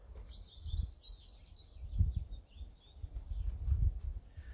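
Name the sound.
field sparrow singing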